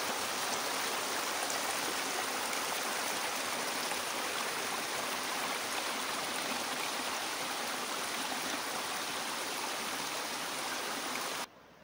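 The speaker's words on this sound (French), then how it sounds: "Vous entendez le ruisseau?" Water rushes in a small stream in the Black Forest, a steady broadband flowing hiss that continues unbroken and evenly loud for the whole stretch, then cuts off abruptly at the end.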